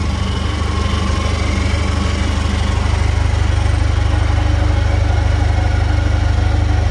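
A GOOLOO GT4000S engine runs steadily at a loud, close idle, a constant buzzing drone with a strong low hum throughout and no voices.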